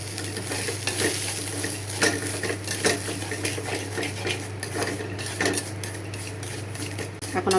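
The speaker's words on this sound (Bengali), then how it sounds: "ভাজতে ভাজতে এগুলো কালার আসে, তারপরে এগুলো ভালো লাগে খেতে। আমি ভাজতে থাকি।" A metal spoon scrapes and clinks steadily against a pan as halua ingredients fry and brown for a breakfast dish, with a soft sizzle underneath and occasional sharper knocks throughout.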